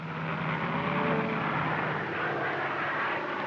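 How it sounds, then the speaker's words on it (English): A steady, droning aircraft engine hums continuously overhead, loud and even throughout with no pauses. "That airplane noise might stampede them."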